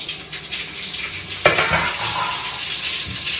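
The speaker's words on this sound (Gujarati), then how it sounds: "તલ બધે ફૂટી જાય ને" Hot oil sizzles and crackles with a sudden burst of spluttering as mustard seeds, cumin and sesame seeds hit the pan, followed by steady popping and hissing.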